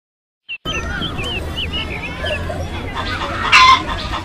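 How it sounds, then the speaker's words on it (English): A hen clucks and chatters up close in a busy run of short calls, with a brief sharper squawk near the end. "H for hen."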